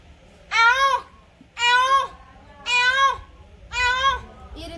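A human voice imitates a peacock call, giving four loud, wailing cries in an even rhythm with short gaps between them.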